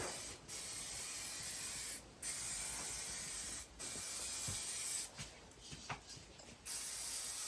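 A 2K spray can lays the final black paint coat on an automotive touch-up, in long steady hissing bursts separated by brief pauses, then a few short sputtering sprays before a last long blast.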